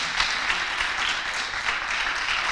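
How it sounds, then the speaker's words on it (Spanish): A church congregation claps and applauds for the Lord, a steady, moderately loud wash of hands without pause, with no voices rising above it. "Alguien, dale un aplauso fuerte al Señor."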